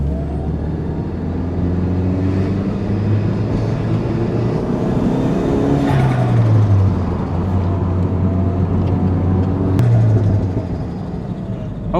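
Audi car engine revving through gears while driving, a loud low drone whose pitch climbs and drops at each shift, with a sharp change near the middle and again toward the end.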